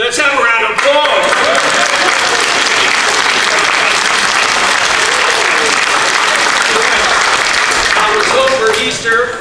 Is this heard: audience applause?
yes